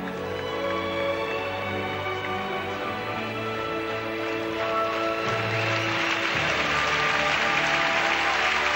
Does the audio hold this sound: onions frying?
no